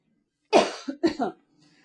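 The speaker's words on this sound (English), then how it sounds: "I just have a cough that keeps coming and going." A single harsh cough bursts out, followed by two or three shorter, rougher coughs in quick succession, close and fairly loud against a quiet room.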